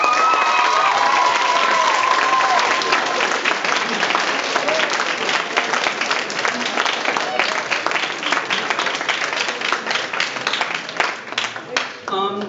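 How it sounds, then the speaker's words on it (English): A banquet crowd applauds the advisors with sustained, loud clapping and some cheering that keeps up for about twelve seconds, thinning slightly toward the end. "please give a round of applause to all the advisors present"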